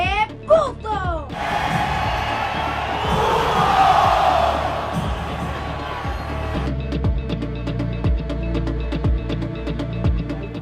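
A Mexican football stadium crowd roaring through its goalkeeper chant, a massive swelling mass of voices with whoops, followed by rhythmic thumping and clapping under a talking voice-over.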